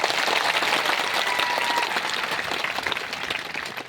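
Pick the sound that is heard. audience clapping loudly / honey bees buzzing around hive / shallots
audience clapping loudly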